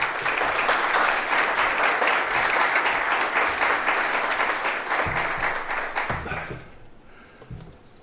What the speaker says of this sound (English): round of applause for Ian